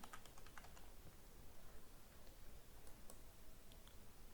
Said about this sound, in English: for example, I'm typing the name